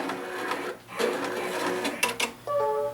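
A Brother embroidery machine with a cutwork tool installed boots up, giving a short run of mechanical whirring and clicking, then a few clear electronic beep tones near the end, close and moderately loud.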